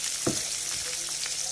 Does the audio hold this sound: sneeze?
no